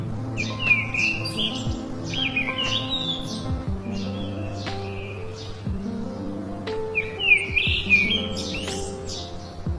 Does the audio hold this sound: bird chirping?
yes